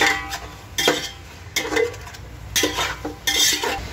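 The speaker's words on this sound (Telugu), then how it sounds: "ఇలా వేసుకున్న మన మసాలా ఐటమ్స్ అన్ని చికెన్ బాగా కలుపుకునేటట్టు శుభ్రంగా కలిపి" Chicken being mixed with masala spices for Hyderabadi biryani, bursts of stirring and scraping against a metal pot in uneven strokes with short pauses between.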